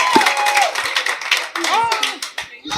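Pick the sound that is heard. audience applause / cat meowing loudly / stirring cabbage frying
audience applause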